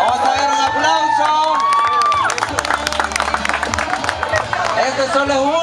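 Crowd applause and cheering at a trophy ceremony for a 2021 community football tournament in Mejicanos, San Salvador, loud and continuous, with voices and music mixed in throughout.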